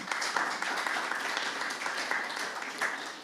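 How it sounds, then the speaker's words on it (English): Audience members applaud a presenter introduced at a youth panel discussion, a continuous burst of many hands clapping at moderate volume with a slight flicker of individual claps. "Please clap for Delroy."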